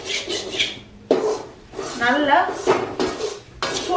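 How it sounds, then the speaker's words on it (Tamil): A ladle scrapes and clanks against a pan as gram flour is stirred into sugar syrup for Mysore pak, with repeated close metallic strokes while someone speaks over them. "இந்த கரண்டியில இந்த பாகை பார்த்துக்கிட்டே மாதிரி இந்த கடலை மாவை வந்து அடிப்பிடிக்காம கிளறணும்"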